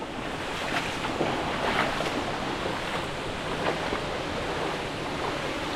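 Water churns and rushes steadily in the stone holding pool of a 150-year-old water mill, a constant broadband wash close to the microphone with no voices.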